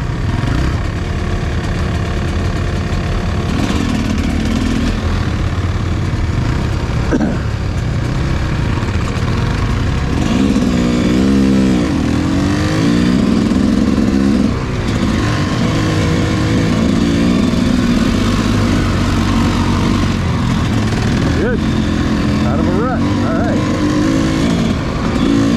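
Off-road four-wheeler engines run continuously and loudly close by, droning and shifting in pitch as the riders head up a hill, with brief revving and wind noise throughout.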